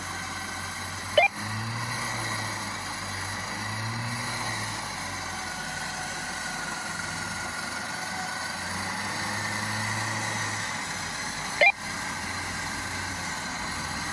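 An Ineos Grenadier 4x4 engine runs at a low, steady idle while powering a RedWinch electric winch outdoors, with a low hum throughout and two sharp clicks or knocks standing out.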